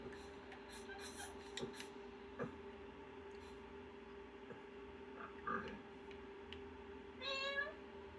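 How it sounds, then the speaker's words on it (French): A soft Minecraft cat meow rises near the end over a quiet, steady hum with a few faint clicks scattered throughout. "Un petit minou."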